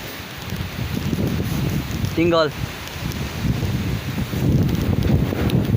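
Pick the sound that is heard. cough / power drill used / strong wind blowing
strong wind blowing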